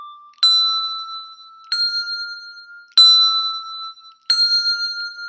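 Handbells are played with the four-in-hand technique in four evenly spaced strikes, each a clear bright tone that rings on until the next.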